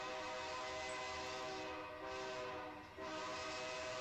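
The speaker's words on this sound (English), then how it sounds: "here is our westbound empty ethanol train rolling through downtown Calmar" A westbound empty ethanol freight train with a BNSF leader rolls through downtown Calmar, Iowa. Its horn holds a loud, sustained chord over the steady rumble of the passing cars, with one brief dip before the horn resumes.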